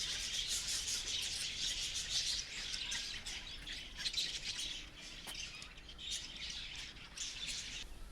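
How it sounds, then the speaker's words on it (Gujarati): A flock of colourful sparrows in an aviary at Rajkot zoo (Pradyuman Park) chirps continuously, with many overlapping bright, high tweets and no talking. "મિત્રો અહીં અનેક રંગબેરંગી ચકલીઓ છે"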